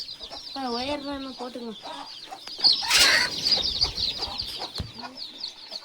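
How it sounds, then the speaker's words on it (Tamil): A mother hen and her young chicks drink water together: the hen's low clucks mix with the chicks' thin, rising peeps and scratchy movement nearby, all close and fairly loud. "தாய் கோழி குடிக்கவும் குஞ்சுகளும் குடிக்க ஆரம்பிச்சிச்சு பாருங்க"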